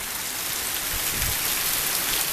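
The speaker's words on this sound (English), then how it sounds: "I see the wind blowing that rain up underneath here." Wind-driven rain in a storm hisses steadily and loudly, a dense wash of drops pelting a surface nearby with gusty low rumbles underneath.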